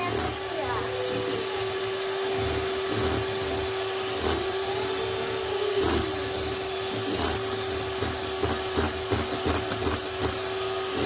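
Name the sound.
electric mixer whipping cream for a birthday cake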